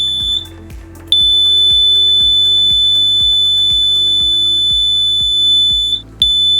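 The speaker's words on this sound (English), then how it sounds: "Each alarm can be configured with 3 operating modes: constant buzzer with flashing light" Industrial machinery safety alarm emitting a constant 100-decibel buzzer: a loud, sustained piercing tone over a rhythmic mechanical pulsing beneath, briefly cutting out before resuming.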